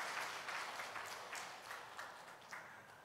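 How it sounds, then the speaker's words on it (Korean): A church congregation applauds the preacher during a Sunday sermon, a steady mid-level patter of many hands lasting a few seconds, with soft bursts that slowly ease off. "우리 수고하는 전도사님 박수 한번 주세요."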